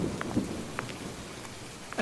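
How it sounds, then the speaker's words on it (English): Heavy rain and a night thunderstorm over Dallas in an audio play, a steady hiss of downpour with low rumbles and scattered drop impacts throughout, no voices. "A heavy storm had come over the Dallas skies that night, and as the rain washed away the grey clouds"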